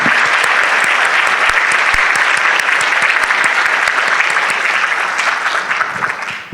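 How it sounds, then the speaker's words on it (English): An audience at an evening lecture event gives a round of applause, loud, dense and sustained clapping with a few sharper individual claps standing out before it thins and fades at the end. "please join me in a round of applause and thanks to the Fingerman family for this gift"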